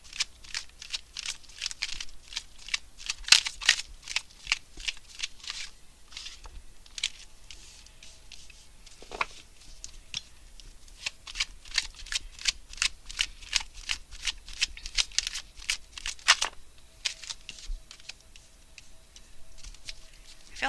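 Tarot cards are shuffled close up in a steady run of soft riffling flicks and slaps, repeating rhythmically for about twenty seconds with no talking.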